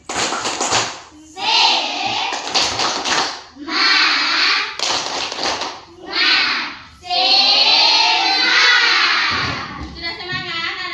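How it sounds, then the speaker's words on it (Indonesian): Classroom children doing a rhythmic spirit clap before a maths lesson, with bursts of patterned hand claps mixed with chanting young voices in loud, repeated phrases. "tepuk semangat dulu supaya semangat semuanya nanti untuk memulai pelajaran matematika"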